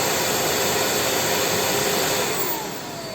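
A Jimmy H9 Pro cordless vacuum cleaner runs on max power with a loud, steady whooshing roar, close by, dropping slightly in intensity near the end.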